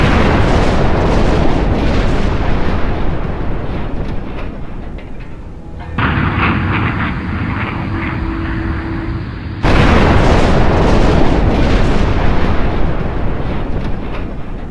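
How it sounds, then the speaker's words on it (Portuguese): A huge explosion as an Iran Air airliner is struck by two SM-2R anti-aircraft missiles: loud, sustained booming and rumbling roars, broken by a brief muffled stretch before the blast returns at full force. "uma enorme explosão põe fim a tudo"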